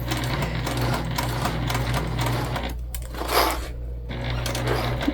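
A sewing machine stitches a crossbody bag in a steady, close whirring run that dips briefly midway, then resumes its even mechanical hum.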